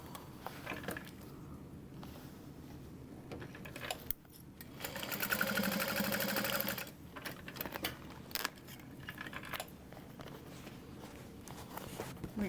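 A sewing machine stitches vinyl for a small pouch in one quiet run of about two and a half seconds, with soft handling and shuffling noises before and after.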